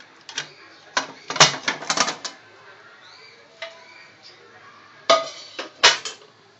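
A baked mango sponge cake is lifted out of a cooled pressure cooker, with scattered metallic clinks and clatters of the pot and tin in short clusters separated by quiet gaps.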